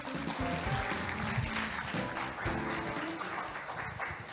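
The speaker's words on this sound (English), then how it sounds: "Please welcome her with a big round of applause." An audience at a spectrum management conference forum applauds to welcome a speaker to the stage, a dense, continuous round of clapping from many hands throughout.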